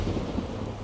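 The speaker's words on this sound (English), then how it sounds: "Storm, damn it." A thunderstorm in The Witcher 3 rumbles as a low, steady wash of thunder, wind and rain, with no voices over it.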